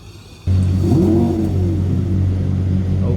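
A 2003 Lamborghini Murcielago Roadster in Roblox starts up: a quiet hum, then the engine fires with a sudden loud roar and settles into a steady, deep idle.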